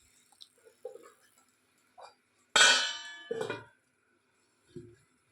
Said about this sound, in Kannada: ಬಾಯ್ಲ್ ಆಗೋ ಥರ ಈಗ ಮುಚ್ಚಿಡೋಣ.